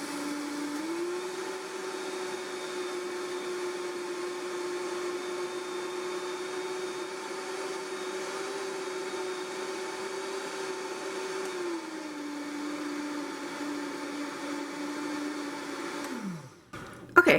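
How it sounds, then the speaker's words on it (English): A Vitamix blender grinds 2½ cups of oats with a steady, close motor whine that shifts pitch briefly midway, then spins down and stops with a clunk at the end. "that happened really fast in my Vitamix"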